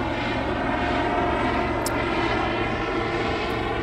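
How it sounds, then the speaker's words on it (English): A Coast Guard helicopter passes overhead near a fishing spot on Long Beach Island, its engine and rotor a loud, steady drone filling the whole stretch with no talking. "the Coast Guard helicopter's flying over here"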